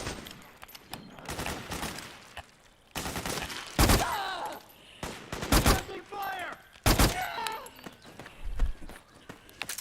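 Submachine gun and assault rifle fire in Metal Gear Solid 4 comes in sharp bursts and single cracks, loud and close, separated by short gaps, with voices talking between volleys.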